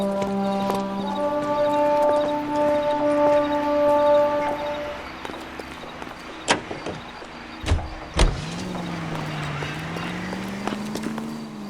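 A car driven in the 1940s Los Angeles crime game L.A. Noire, with a steady engine tone that rises and falls, broken by a few sharp thumps like doors closing, with no talk.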